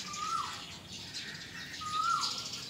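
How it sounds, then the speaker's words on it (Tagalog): Birds chirping in a small park, two clear upward-sliding calls about a second and a half apart over a soft, steady outdoor background. "Nagdatingan tong mga ibon."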